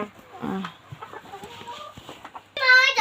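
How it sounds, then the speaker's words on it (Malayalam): Chickens cluck and chatter nearby in short bursts, ending with a louder, drawn-out squawk; faint background murmur underneath. "നമ്മുടെ കോഴിക്കുട്ടന്മാരെ കാണിച്ചു കൊടുക്കുന്ന"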